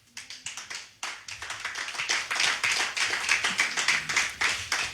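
A church congregation breaks into applause, starting with a few scattered claps that quickly swell into dense, sustained clapping from many hands, close and lively.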